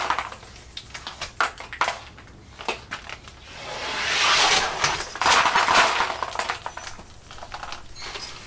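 Tempered glass of a broken sliding door crumbling into pieces: scattered sharp ticks and crackles that swell into a denser, louder shower of tinkling fragments midway, then thin back out to sporadic clicks.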